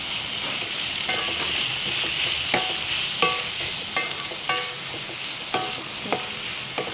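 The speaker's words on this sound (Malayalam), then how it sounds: "നന്നായിട്ട് നമുക്ക് ഇളക്കി കൊടുക്കാം. നന്നായിട്ട് വഴന്നു വരും." Onions sautéing in oil for an egg curry, a steady bright sizzle with a utensil scraping and clicking against the pan every second or so, close and continuous with no talking.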